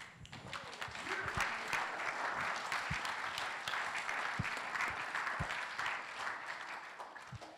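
An audience gives a sustained round of applause during a Rangatahi stream, a steady wash of many hands clapping for several seconds with a few sharper, closer claps standing out. Faint voices mix in beneath.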